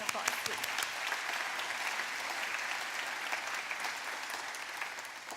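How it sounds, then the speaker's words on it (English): Audience applause at a Stark County campus ribbon cutting ceremony, a steady, moderately distant wash of clapping lasting throughout. "give them a round of applause"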